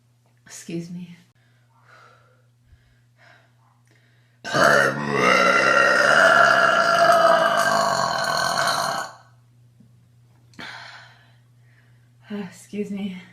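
A woman's long, loud burp swells up and rumbles for several seconds, framed by short gasps and breaths before and after, close to the microphone with brief speech around it.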